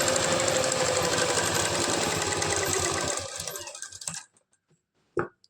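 A sewing machine stitches a belt blouse with a half-inch seam, running in a steady rapid whir for about three seconds before slowing to a stop, then a single sharp click after a short pause.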